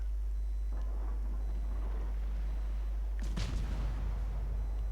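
A battleship's main guns fire a salvo in a naval video game, a sharp booming blast rising out of a low rumbling background near the end, with no voices.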